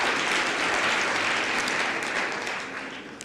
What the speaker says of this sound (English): Again, give him a round of applause.